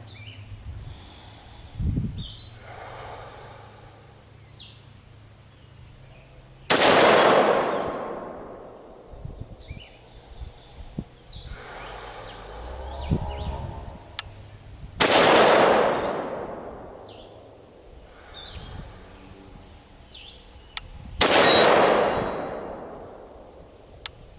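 Pistol shots fired at a target using iron sights: three sharp, loud reports spaced several seconds apart, each with a decaying echo, with quiet breathing and handling noise in between.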